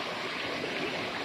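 Steady, dense rush of falling water at the Wat Kao waterfall, close and continuous with no break or voice over its brief span.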